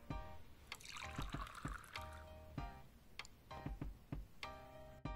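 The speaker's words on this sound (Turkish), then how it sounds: "1 litre sütümüzü karıştırma kabımıza döküyoruz." One litre of milk is poured into a mixing bowl, giving a quiet, faint trickling and splashing of liquid with small clicks and taps over a few seconds. No one speaks.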